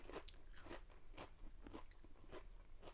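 Crisp, repeated crunching bites of Boulder Canyon kettle cooked potato chips, close and steady, several crunches in quick succession with no talking.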